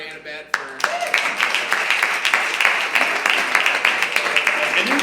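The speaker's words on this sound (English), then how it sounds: "give me one more round of applause for Annabette." An audience at a live comedy show breaks into loud, dense applause that holds steady for several seconds, with scattered voices and cheers mixed into the clapping.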